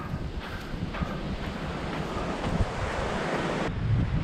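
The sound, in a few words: wind blowing during a run by the coast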